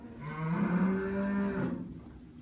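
A single long, low moo from a dairy cow inside a barn, close and clear, sustained for over a second before trailing off into quiet.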